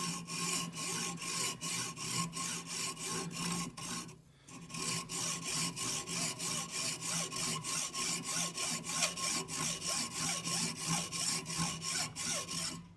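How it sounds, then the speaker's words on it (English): A hacksaw cuts through a fiberglass tent pole from a Eureka Tetragon 3 tent clamped in a vise, with steady rasping back-and-forth strokes at a regular rhythm, close and alone, pausing briefly partway through. "I've got my hacksaw here, and I'm ready to cut."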